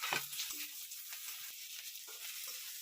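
Onions fry in a pan for a hotel-style tadka, giving a soft, steady sizzling hiss with a few faint clicks and stirs, quiet and alone throughout.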